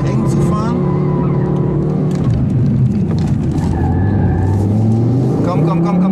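An Audi TT RS 8S with all-wheel drive and APR tuning on a race track, its engine droning loudly and shifting pitch as it accelerates and brakes, with a voice talking over it.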